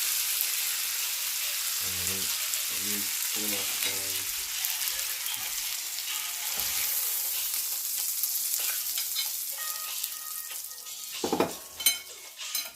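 Steaks sizzle steadily in a pan for a steak dinner, with a dense frying hiss throughout, brief metallic pan and utensil clinks early on, and sharper pops and scraping toward the end.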